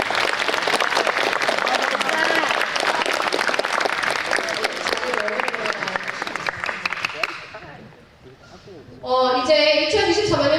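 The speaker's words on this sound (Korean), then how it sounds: "하준이도 선거 활동 열심히 했으니까 박수 한 번 더 부탁드리겠습니다." A school audience claps for student council election candidates at a middle school. The dense, sustained applause lasts about seven seconds, then dies away, and a voice follows near the end.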